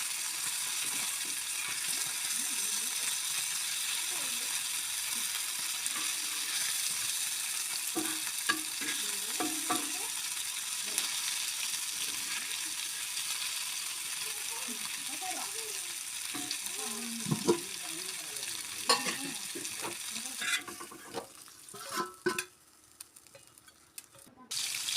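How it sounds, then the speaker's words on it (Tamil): Fish frying in a pan, a steady hissing sizzle held close for a long stretch, broken by scattered stirring clatters that grow busier and louder near the end. "மீன் வறுத்து முடிச்சாச்சு."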